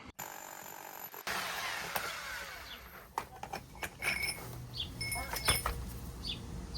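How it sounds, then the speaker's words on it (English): A power drill whirs steadily through a cellar wall, broken by sharp knocks, scrapes and rattles of tools nearby. "that's where we're drilling our hole right now"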